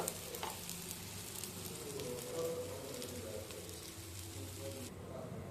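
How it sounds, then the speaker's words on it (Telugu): Egg omelette frying in a little oil in a pan, an even, close sizzle and crackle holding steady throughout with faint scraping and a low background hum. "ఇలా ఫ్రై అయిన తర్వాత దీన్ని తిప్పుకుందాం."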